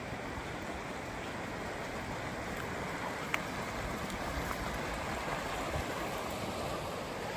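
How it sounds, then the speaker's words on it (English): A stream of running water beside a sandy bank on a hiking trail, heard as a steady broadband rush that holds even throughout, fairly close, with no voices. "towards some running water. I can hear it."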